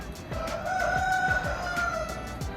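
Chickens cluck and a rooster crows, fairly close, over a soft outdoor background.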